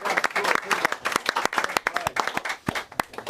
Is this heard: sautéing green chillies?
no